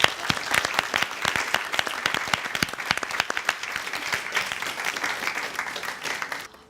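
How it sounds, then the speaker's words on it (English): A studio audience at a survival competition show gives a contestant a round of applause, many hands clapping briskly with sharp individual claps audible, steady and close before stopping abruptly. "another big round of applause"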